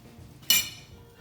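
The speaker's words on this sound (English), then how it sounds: "So I scrape my eggs onto this plate" A fork scrapes scrambled eggs from a metal-handled skillet onto a plate, one sharp metallic clink and scrape rising abruptly out of quiet kitchen background, then fading quickly.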